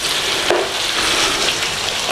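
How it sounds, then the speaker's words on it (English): Meat fried for kapsalon hisses loudly and steadily in a hot pan, close up, with a brief scrape of stirring partway through and a constant bright sizzle throughout. "let's go in the pan with our meat. So let's give that a little stir around in there"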